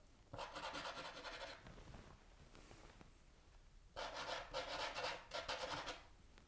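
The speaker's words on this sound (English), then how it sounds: "just using the tip of this pastel to scrub the pigment around" A pastel stick's tip scrubbing pigment across paper in a scumbling motion gives a close, dry rasp in two bursts of quick back-and-forth strokes, separated by a quieter pause.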